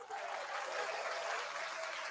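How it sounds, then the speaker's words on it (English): A canned applause effect fires from a sports radio show's soundboard, a brief, even wash of clapping and cheering that stays at steady moderate loudness. "There's not a rim shot, but there is applause."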